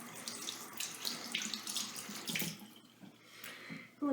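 Hands rinsed under a running kitchen or bathroom tap, a steady close splashing hiss of water over skin for about four seconds, tapering near the end, with no talking.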